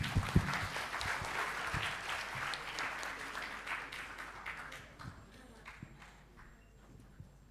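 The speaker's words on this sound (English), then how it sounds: "With a round of applause." A seminar audience claps in a dense burst of applause that gradually thins and fades, with a few scattered claps lingering at the end.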